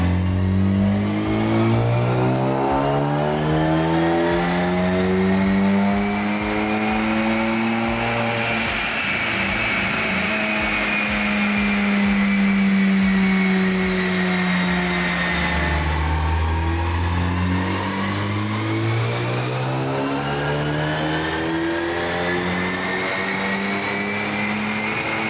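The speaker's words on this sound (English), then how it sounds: "So now we can do a pull and see what it does on the ethanol blend." Ford Focus ST engine running on an ethanol blend after a direct-injection fuel pump install, loud and close, revving through rising gears in a long pull with shift dips and swelling pitch, no voices.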